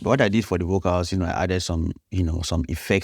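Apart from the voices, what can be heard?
No everyday noise stands out behind the speech.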